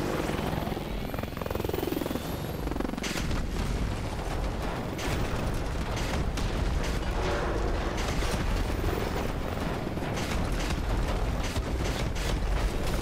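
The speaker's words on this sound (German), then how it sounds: "es explodiert hier auch noch alles" Dense, rumbling explosions and crashing blasts in the video game Call of Duty: Advanced Warfare roll on continuously, loud and chaotic, with no clear pauses between bursts.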